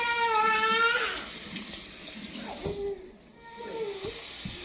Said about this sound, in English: make sure you wash your hands before you get started